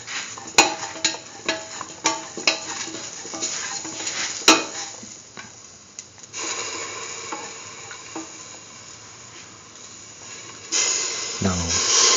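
A spoon stirs green tomato coconut dip in a bowl with rhythmic taps and soft scraping against the sides, close and moderately loud, then settles into a quieter, smoother mixing sound.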